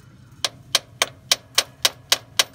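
Eight sharp, evenly spaced metallic taps of a small brass hammer on the carburetor of a 1984 Dodge Ram, near the fuel inlet to free a stuck needle and seat, close and crisp, in a steady rhythm.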